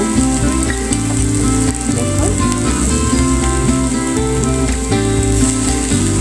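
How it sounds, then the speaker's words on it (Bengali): Cabbage and egg fry under a lid in a covered pan, a dense, continuous close sizzle holding steady and loud throughout, with a faint musical hum underneath. "ডাকনা দিয়ে ঢেকে ভাজি করে নিচ্ছি"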